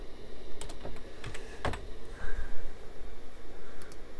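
Quick scattered keystrokes tap on a computer keyboard, a few sharp clicks in short bursts against a faint background hiss, close by with no voice.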